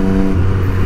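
A Suzuki Hayabusa motorcycle engine revs hard with a loud, steady high-rpm drone that drops to a lower pitch partway through, with no voices over it.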